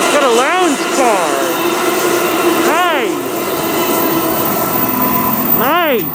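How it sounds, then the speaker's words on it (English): An HO scale model train, Amtrak or Desert Wind, runs past at a depot model railroad with a loud steady rumble, with wavering whooshing tones that rise and fall several times. "Train 777 now blowing through Santa Susana Pass."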